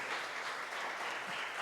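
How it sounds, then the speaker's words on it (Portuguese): A church congregation applauds in worship, giving brief continuous dense clapping at a moderate level. "Vamos aplaudir ao nome do Senhor Jesus?"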